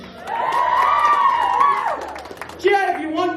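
Youths at a Samoan break-up party in Canberra cheer and scream in a rising burst for a best-dress vote, dying down after about two seconds, followed by a voice speaking over lingering crowd noise.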